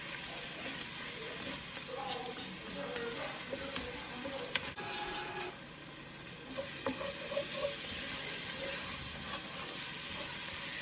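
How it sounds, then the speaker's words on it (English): A spoon stirs a sizzling pot of Creole red beans and rice with cayenne pepper, scraping softly and steadily over a constant frying hiss throughout, close and moderately quiet, with no voices. "All right, let's give that a nice stir. Mix all of that together."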